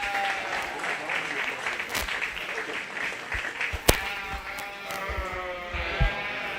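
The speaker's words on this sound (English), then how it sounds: "So let's give these guys a round of applause, please." Steady applause from the audience at a 4-H/FFA sheep and lamb show fills the space for several seconds, with lambs bleating through it and a sharp clap or knock partway in.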